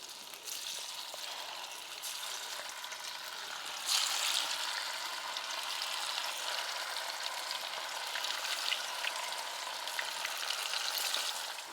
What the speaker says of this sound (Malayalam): ആ ചൂടോടെ തന്നെ നമുക്കിനി ഇറച്ചിയുടെ കഷ്ണം ഓരോന്നായിട്ട് പറക്കിച്ചു കൊടുക്കാം